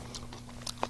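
Raw leek being bitten and chewed, a few crisp crunches spaced through a second, close and fairly faint against a low steady hum.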